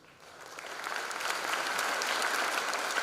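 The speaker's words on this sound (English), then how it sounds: "So big applause for all the people whom I have met from VIT." An audience at a freshers' induction programme breaks into applause that swells from a few claps into steady, dense clapping from a large crowd, with no speech over it.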